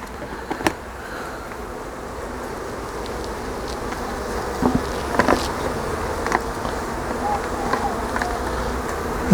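Honey bees buzz steadily around open beehives, a dense continuous drone close to the microphone, with occasional clicks and handling knocks from the beekeeper's work.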